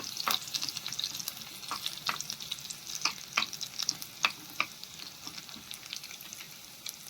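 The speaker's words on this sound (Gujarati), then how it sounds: "તો જીરું અને લસણની કળીને સરસ તતરી જવા દઈએ" Cumin seeds and garlic cloves sizzle in hot oil for dal tadka, a steady close frying hiss scattered with sharp crackling pops that thin out toward the end.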